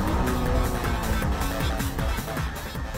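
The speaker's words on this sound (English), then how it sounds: "And there goes Tsuchiya's NSX right to the inside of the M3." A Honda NSX and a BMW M3 race side by side as the NSX dives to the inside of the M3, with loud sustained engine roar and shifting tones.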